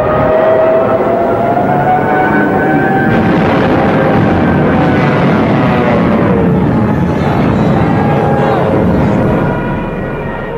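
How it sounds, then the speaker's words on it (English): WWII Stuka dive bombers attack in a sustained wailing, siren-like howl with wavering pitch over a heavy rumbling roar, loud and continuous, fading slightly at the end. "with Stuka dive bombers blitzing just ahead of them"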